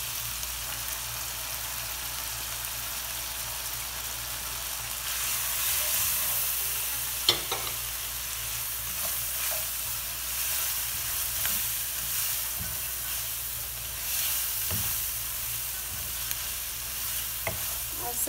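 Chicken pieces with dry spices fry in a pan with a continuous hiss that swells midway, interrupted by occasional spoon scrapes and light knocks, steady and nearby with no talking.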